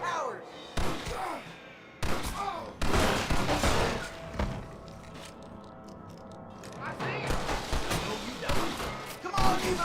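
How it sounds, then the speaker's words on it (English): Gunfire and an explosion as an exploding barrel is shot in the Western video game Red Dead Redemption, with loud bursts and thuds over about ten seconds, game voices and talk mixed in. "I see exploding barrel. I shoot exploding barrel."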